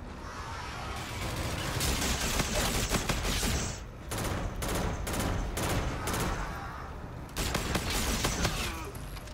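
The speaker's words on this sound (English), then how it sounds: "who's shooting at me?" Rapid automatic gunfire in Call of Duty: Infinite Warfare Gun Game mode, loud and dense bursts with brief pauses, continuous volleys of shots from close range throughout.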